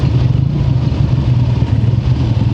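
A 1968 Bonneville and a Trophy motorcycle riding past on a village road, a loud steady engine drone with a throbbing exhaust beat, close and continuous throughout.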